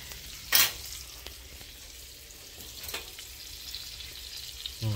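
Breaded squirrel fries in a pan with a steady sizzle, broken by a couple of sharp clatters and scrapes of a fork against the pan, and no talk.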